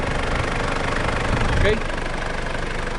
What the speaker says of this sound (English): 2005, motor 2800, y esto es turbo diesel intercooler.